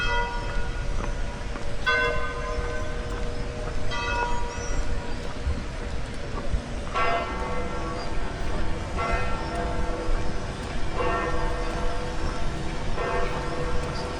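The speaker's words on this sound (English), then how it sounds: "The bell has tolled." A church bell in Rome tolls repeatedly in slow, evenly spaced strokes, each ringing out and decaying over a steady outdoor background hum with no talk.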